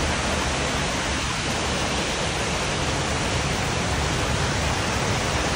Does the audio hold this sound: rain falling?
yes